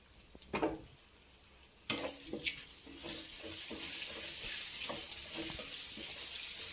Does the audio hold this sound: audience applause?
no